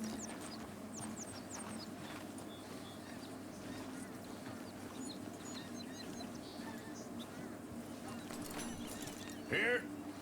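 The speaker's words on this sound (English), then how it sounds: "It is a nice horse, I will say" Horse hooves clopping at an easy pace in Red Dead Redemption 2, a steady run of soft repeated beats heard fairly close under a faint game ambience with chirps and a brief louder burst near the end.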